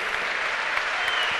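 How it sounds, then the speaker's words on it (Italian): A party crowd claps for Alex Ranozzi at a celebration in Forlì, a brief, fairly faint patch of even applause with no clear voices. "Un applauso alla metamorfosi di Alex"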